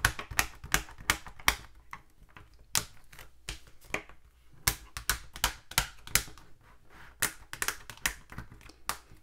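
Paper planner inserts being pulled out of their rings, giving a rapid series of loud, sharp snapping clicks in quick bursts, close up with no talking.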